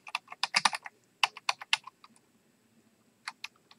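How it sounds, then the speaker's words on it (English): Typing a password on a computer keyboard: quick bursts of close, crisp key clicks, a flurry of keystrokes, a pause, then a few more isolated taps near the end. "I will type in my password."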